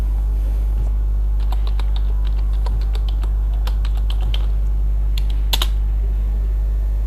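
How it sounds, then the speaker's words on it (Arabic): A password typed on a computer keyboard, a steady run of close, crisp key clicks in short bursts over a loud constant hum, no speech. "هكتب كلمة المرور"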